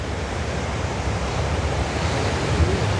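Sea waves wash onto the shore in a steady, broad hiss of surf with a little wind noise, continuous and fairly loud, with no one speaking.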